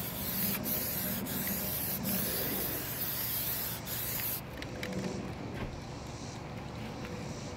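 Aerosol Plasti Dip sprayed onto the wheels of a 2018 Ford Explorer, a steady loud hiss of the can running without pause for several seconds, no one talking.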